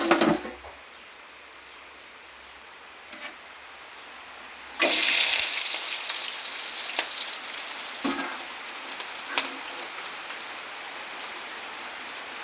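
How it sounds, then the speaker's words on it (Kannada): Onion, garlic, green chilli and ginger fry in hot oil, a quiet start giving way to a loud, steady hiss and crackle that keeps going with small pops and scrapes. "ಹಾಗೆ ನೀರುಳ್ಳಿ, ಬೆಳ್ಳುಳ್ಳಿ, ಹಸಿಮೆಣಸು ಮತ್ತು ಶುಂಠಿ ಇದನ್ನು ಹಾಕಿ ಫ್ರೈ ಮಾಡಬೇಕು"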